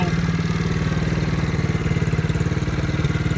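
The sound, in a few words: Chinese 110cc four-wheeler engine running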